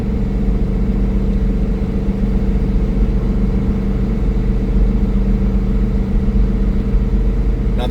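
A car climbs a long uphill road with its windows closed, giving a steady, continuous engine drone and low cabin rumble that stays loud and even throughout.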